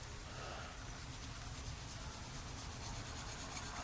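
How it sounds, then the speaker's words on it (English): A plastic part from a 1:48 scale F-15 model kit is sanded by hand, a faint, steady rubbing scrape close by with no talk. "a little bit of sanding here."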